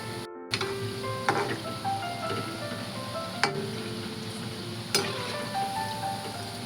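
Jawla (dried shrimp) bhaji frying in hot oil on a lowered gas flame, a steady close sizzle with occasional sharp ticks and crackles, no one talking.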